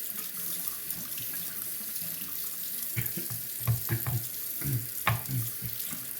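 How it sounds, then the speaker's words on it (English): Tap water runs steadily over a Shapton 1500 sharpening stone as it is rinsed, a continuous splashing stream with a few louder knocks and gurgles near the end, close up and with no talk. "Rinse the stone one more time."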